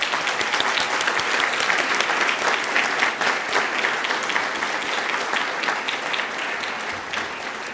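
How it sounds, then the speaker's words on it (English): Crowd applauding at a 2024 college commencement ceremony, sustained dense clapping from a large audience that holds steady throughout and eases slightly toward the end. "But let's give her a round of applause."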